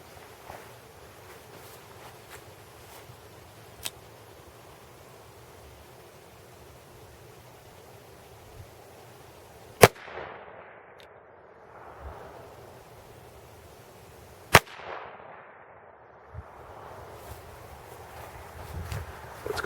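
Two sharp handgun shots of 30 and 40 grain Maxi-Mag rounds fired at a Level IIIa soft armor vest, a few seconds apart, each ringing out briefly over a quiet outdoor wind-like hiss.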